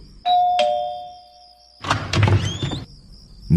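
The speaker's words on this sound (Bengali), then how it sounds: "তিন মিনিট পরে কলিং বেল বেজে উঠল" A calling bell at an apartment door rings with one clear two-tone chime that fades out. After a short pause, a rustling, clattering burst follows, like a door being opened.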